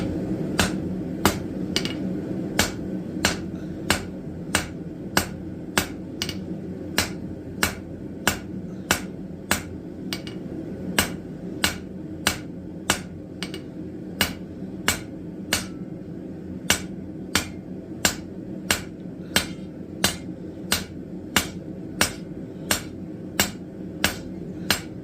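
Steady rhythmic hammer blows on hot steel taper at an anvil, forging it to an octagon, sharp ringing strikes evenly spaced about every second, close and clear over a faint background hum.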